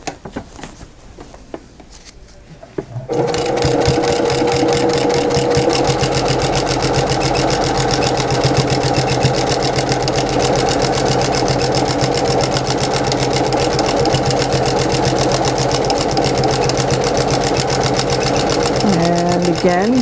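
A sewing machine stitches a baby blanket with a quarter-inch seam, a close, loud, steady rapid chatter running without pause for most of the stretch after a quieter start with brief talk.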